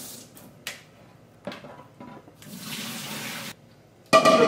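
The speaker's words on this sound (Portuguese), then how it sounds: "Enquanto isso eu vou escorrer essa água aqui, olha." Water poured from a pot and draining through a small kitchen sieve over a sink, a broad rushing splash in several bursts, with a louder, brighter burst of running water at the end.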